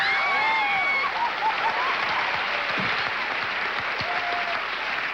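Sustained game show studio audience applause fills the whole stretch at an even, steady level, a dense wash of many hands clapping with a few whistle-like tones over it.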